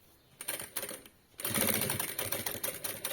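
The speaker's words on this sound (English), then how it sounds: "I stitch in my ironing line" A sewing machine stitches quilt binding: a few short bursts of needle chatter, then a longer continuous run of rapid, close, mechanical stitching, with no voices.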